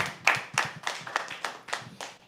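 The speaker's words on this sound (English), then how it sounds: "can please have an applause for him?" A small audience at a poetry open mic claps for a performer, with distinct individual claps in an uneven rhythm rather than dense applause, close and moderately loud.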